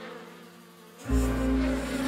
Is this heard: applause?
no